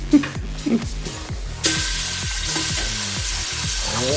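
Beef pieces frying in hot oil for beef bourguignon, a loud steady sizzle that jumps up after about a second and a half, with the stir of meat and clunks of a utensil in the pan underneath.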